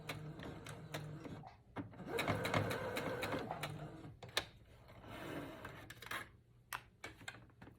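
A sewing machine whirs in a steady mechanical run while back stitching, then stops and starts in shorter bursts, with small clicks and taps around it.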